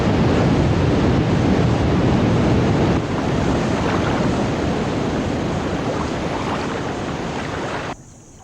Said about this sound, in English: These falls hold no records for height or volume, but for sheer violence,